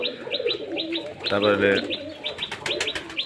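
Kaldam and giribaj pigeons kept on a rooftop coo and chirp in quick repeated calls, close and clear, with a brief word spoken.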